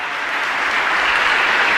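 Congregation applause during a Mass at Capilla Rosa Mística in Mariano Roque Alonso, honoring a birthday: a dense, even wash of clapping from many hands that swells slightly and holds steady, with no talk over it.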